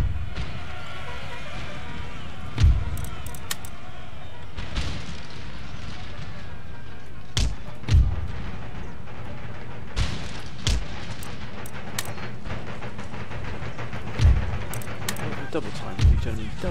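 Mortar and artillery fire in the Empire Total War battle game booms out as repeated heavy thuds every few seconds over a constant battlefield rumble, while someone talks throughout.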